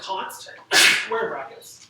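One sharp, close sneeze bursts out in the middle of someone's talking.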